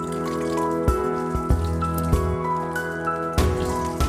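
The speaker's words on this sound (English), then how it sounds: "Rinse your hands with water." Water from a tap splashes and drips as hands are rinsed under it, with irregular close splashes over a steady tonal background hum.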